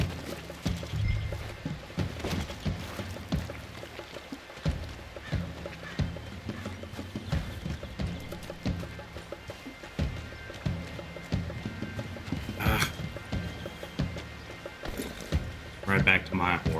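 Horse hooves clip-clop at a running pace through a Red Dead Redemption game scene, a steady rhythmic clatter close by, mixed with game sounds and people talking over it.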